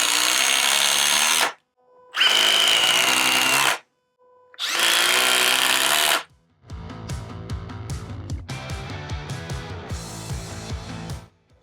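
A DeWALT impact driver sinks a 3 1/8 inch GRK screw into wood, with three loud motor whirs separated by short gaps and then a long stretch of rapid, hammering impact rattles.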